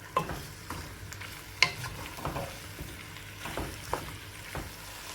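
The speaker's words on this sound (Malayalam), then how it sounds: "സവാളയിലിട്ടിട്ട് ഒരു രണ്ട് മിനിറ്റ് ഒന്ന് ഇത് വഴറ്റിയെടുക്കാം മീഡിയം ടു ലോ ഫ്ലെയിമിൽ വെച്ചിട്ട് മിക്സ് ചെയ്ത് കൊടുക്കുക" Chicken and sliced onions sauté in a pan over a medium-low flame for biryani, with a steady soft sizzle broken by sharp spoon clanks and scrapes against the pan as the mix is stirred.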